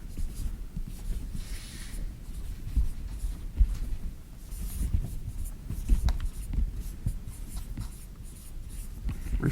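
Chalk or marker writing on a board during a university physics lecture on optical systems, a steady scratchy scraping with irregular strokes at moderate level, mostly alone with faint room noise.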